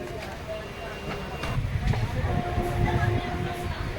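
Tatanagar-Asansol Express pulling out of Kandra Junction, heard from inside: a low rumbling roll with rhythmic wheel knocks and faint metallic tones, steady and moderately loud.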